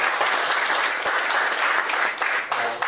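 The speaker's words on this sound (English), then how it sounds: "You should give him a hand clap for that." Audience applause at a cryptocurrency usability conference talk, steady dense clapping filling the room for a few seconds, loud and close, with a faint voice near the end.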